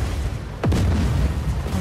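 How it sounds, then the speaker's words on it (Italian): A single deep boom from an explosion in the open-world action video game Just Cause 4, swelling up out of steady game rumble and then trailing into a sustained low roar. "Sono quante esplosioni!"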